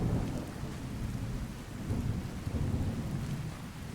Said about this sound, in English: It's raining. It's stormy.